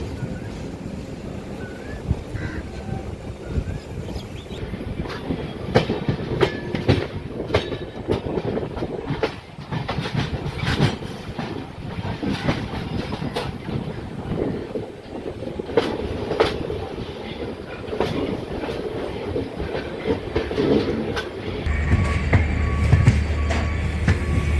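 Steady rumble of train 12604 running from Charlapalli to Chennai Central, heard from inside a new LHB general coach, with continuous rolling noise, scattered wheel clicks and rattles, growing heavier near the end.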